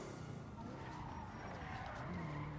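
Car in a video game skidding under hard braking, a drawn-out tire squeal over engine rumble, with faint voices in the background.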